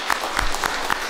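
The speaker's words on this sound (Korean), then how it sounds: "박수하겠습니다." Applause from a church congregation at a Sunday worship service, rhythmic hand claps repeating at a steady beat through a short burst, close and fairly loud with no talking.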